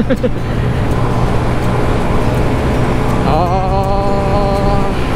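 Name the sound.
Honda Scoopy 2020 scooter engine at high RPM while riding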